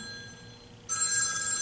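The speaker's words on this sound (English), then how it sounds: "Uh-oh. Get the phone." A telephone bell breaks out suddenly partway through, a bright, shrill ringing that continues loud to the end after a quieter stretch of room tone.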